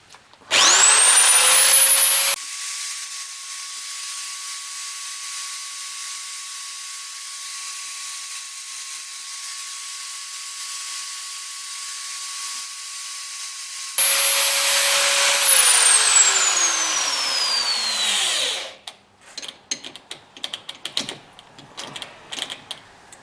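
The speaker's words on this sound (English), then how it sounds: "I'll center drill all of these pillars without changing the position of the drill bit on the cross slide" A metal lathe in a home workshop spins up with a rising whine as brass pillars for a steampunk Nixie clock are center drilled, then settles into a low steady hum, winds down with a falling whine, and ends in scattered small clicks.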